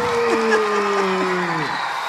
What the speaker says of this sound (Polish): także brawa teraz za to, co Pan Andrzej zrobił